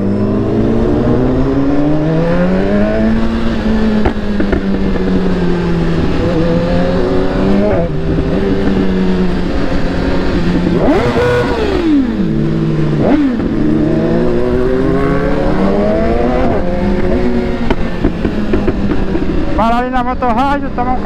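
A Chevrolet Opala car engine revs and drones steadily, its pitch climbing and falling through repeated accelerations, loud and close throughout.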